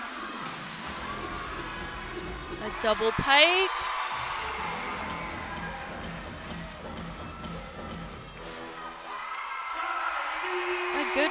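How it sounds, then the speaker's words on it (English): Crowd at a college women's gymnastics meet, Maryland at Nebraska, clapping along in steady rhythm and cheering during a floor tumbling pass, with a commentator talking over the noise and a loud swell midway. "Crowd is clapping along."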